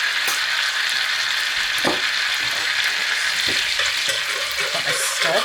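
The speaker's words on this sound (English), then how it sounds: "Then straight in with the cumin seeds." Cumin seeds frying in a hot pan for a tarka dhal, giving a steady close sizzle with scattered crackles and pops throughout, no talk.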